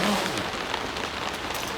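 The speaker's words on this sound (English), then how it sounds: "considering it's already raining" Steady rain pours down during a storm at sea aboard a sailing boat, a dense, even hiss of drops drumming on surfaces, loud and close with no speech.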